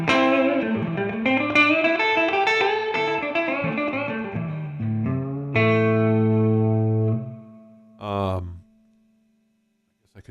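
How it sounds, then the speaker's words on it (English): A Fender-style amp simulation in Amplitube 4 with spring reverb plays electric guitar notes and chords, then sustained tones that cut off, with a short splashy reverb burst and fading tail near the end. "The spring reverb."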